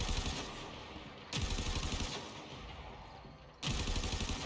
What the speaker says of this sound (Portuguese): Tem uns inimigos jogando, dando tiro ali.